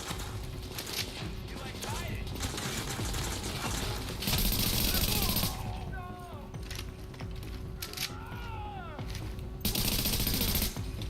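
Machine gun fire and other gunshots in the video game The Division, sharp bursts in bands across the scene with game sounds between and a voice talking over parts of it.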